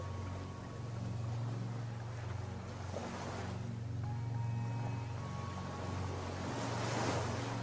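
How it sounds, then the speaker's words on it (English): Ocean waves wash in a steady, continuous roar with gentle surges, mixed with wind noise and a low hum, without any speech. "Allow the sound of the waves to continue relaxing your whole body."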